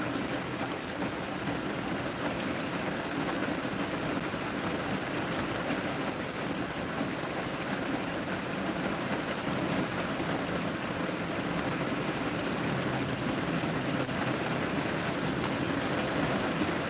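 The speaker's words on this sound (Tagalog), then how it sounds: "lumakas na ang ulan" Heavy rain pours down steadily and loudly for the whole stretch, a dense unbroken hiss of drops hitting surfaces, with no talk over it.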